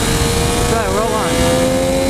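A 2013 Triumph Daytona 675R engine revs as the throttle rolls on, a steady loud drone under wind noise with a brief rising and falling pitch sweep midway.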